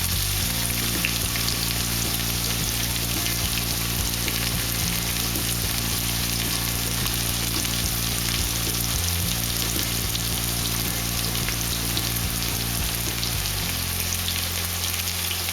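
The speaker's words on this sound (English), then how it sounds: "So I'm going to add the onions in." Chopped onions sizzling in hot oil in a pot for a Ghanaian corned beef stew, a loud continuous frying hiss close up with a steady low hum underneath and no talking.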